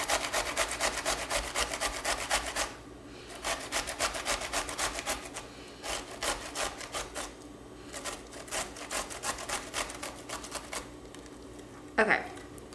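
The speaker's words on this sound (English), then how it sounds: "I'm gonna go ahead and grate my second zucchini" Zucchini being grated by hand against a grater in rapid rhythmic rasping strokes, with bursts separated by short pauses and a brief sharp clatter near the end.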